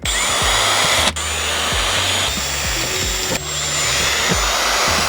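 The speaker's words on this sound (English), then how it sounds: "Start off with a pilot hole so I get nice and centered." A power drill bores a pilot hole through a car bumper on a 2024 Subaru WRX GT, a loud steady whine of tool noise with brief dips and shifts in tone, close by and with no talking.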